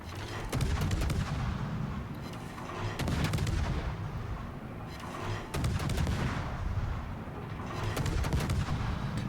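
Naval gunfire in World of Warships as the destroyer Vampire II fires on the cruiser Des Moines: repeated heavy, booming salvos roll out every few seconds over a constant low rumble of sea and engine.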